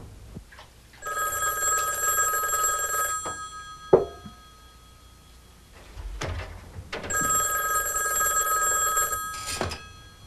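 A telephone rings in repeated long trilling bursts with pauses between them, loud and close, while someone places a call to Bernard; a few clunks and handling knocks occur between rings.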